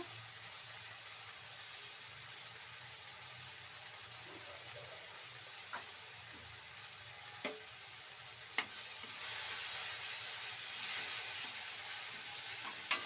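Turmeric and chili powder frying with salt in a pan for an Agrahara-style egg curry, a soft, steady sizzle with faint stirring scrapes and a few light clicks, close and without talk.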